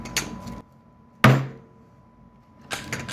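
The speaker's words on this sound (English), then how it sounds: "we just gave it an extra tap with the hammer" A single sharp, solid knock of a hammer on wood, fairly close, with brief rustling handling noise before and after.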